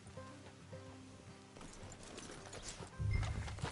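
Horses in Red Dead Redemption II clip-clop at a walk with a whinny early on, hooves thudding in an uneven rhythm before a louder, heavier stamping burst near the end, no talking.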